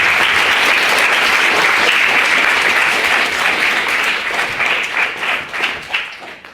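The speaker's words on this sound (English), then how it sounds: "Please give everyone a big round of applause." Loud, dense applause from a debating society audience filling the hall after the first speaker is welcomed, holding steady before thinning into scattered claps near the end.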